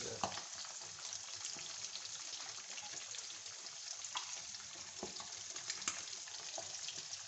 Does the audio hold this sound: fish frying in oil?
yes